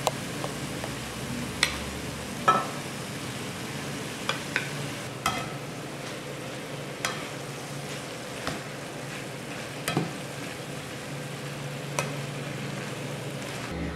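Chicken and onions frying in a pan for fajitas, a steady low sizzle running throughout with scattered clicks and scrapes of stirring.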